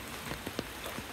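Steady rain falls on a surface at a cattle market in Naogaon, Bangladesh, making a soft continuous patter with scattered louder drops, heard alone.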